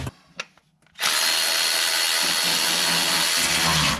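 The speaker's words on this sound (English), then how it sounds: "I can go back to the battery ratchet." A battery-powered ratchet whirs loudly and steadily after a few faint clicks of handling, working on a Dodge Caravan thermostat, running continuously for about three seconds.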